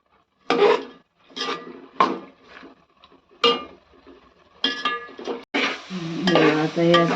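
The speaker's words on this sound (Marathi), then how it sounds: "आता जरा थोडं ढवळते त्याला." Panchkhadya mixture stirred in a pan on a gas stove: a spoon scrapes and knocks against the metal in irregular bursts, close and fairly loud, with brief pauses between strokes.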